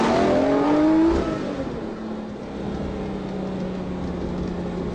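Lamborghini Murcielago LP640 engine pulling hard in fifth gear, a loud rising drone that drops and settles into a steady lower hum after about a second.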